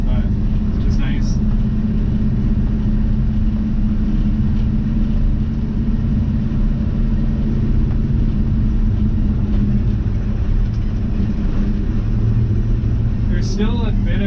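A 1985 GMC C2500 truck cruising, its medium engine giving a continuous low rumble and road drone throughout, with someone talking over the steady motor noise.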